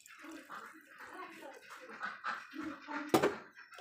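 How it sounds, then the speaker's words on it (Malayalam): Tamarind water being poured into a pot of Kerala-style sardine curry: a faint, soft splashing and trickling that comes and goes for a few seconds, with a brief louder splash near the end. "നമുക്ക് പുളിവെള്ളം ഇവിടെ ഉണ്ടാക്കിച്ചിട്ട് നമുക്ക് ഒഴിച്ച് കൊടുക്കാം"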